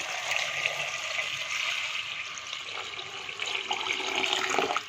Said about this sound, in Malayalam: പിന്നെ നമുക്കിതിലേക്ക് വെള്ളം ഒഴിച്ചു കൊടുക്കാം.